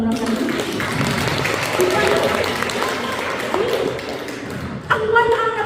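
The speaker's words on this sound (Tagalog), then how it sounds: "Palakpak na muna kami." A church congregation at a Yahweh El Shaddai gathering in Montreal claps together in a sustained, dense wash of applause that runs steadily throughout, with voices mixed into the crowd noise.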